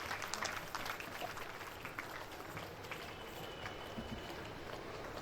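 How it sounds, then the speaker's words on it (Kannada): Audience applause at a stage event welcoming a swamiji, a steady crowd clapping heard faint and distant throughout. "ತಾವೆಲ್ಲ ಚಪ್ಪಾಳೆಯನ್ನ ತಟ್ಟಿ ಅವರನ್ನ ಬರಮಾಡಿಕೊಳ್ಬೇಕು"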